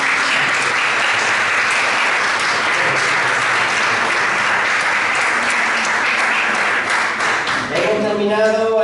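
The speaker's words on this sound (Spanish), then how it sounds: "Dale un fuerte aplauso a nuestro Señor Jesús." Loud, dense applause from a church congregation, sustained for several seconds before fading, with a voice starting to speak at the end.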